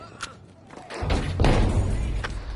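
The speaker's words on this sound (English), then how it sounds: "I haven't cooked that grenade for a while and it took forever to go off" A grenade goes off in Battlefield V after a long cook, a heavy low thud swelling into a rumbling blast that lingers for a second or so, with faint game noise around it.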